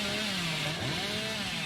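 A chainsaw revs in a video game, a continuous buzzing drone that dips and rises in pitch, loud and steady throughout with no talk over it.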